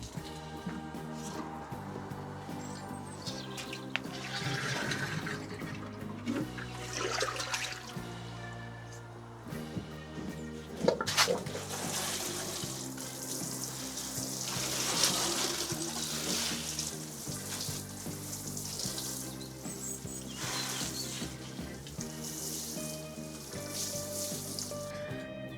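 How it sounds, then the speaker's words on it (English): Dry, dusty greenhouse soil is watered in an unheated winter salad greenhouse. A steady, soft spray and patter runs through the whole stretch, partly masked by a constant tonal background. "I think I need to water this ground before I do anything."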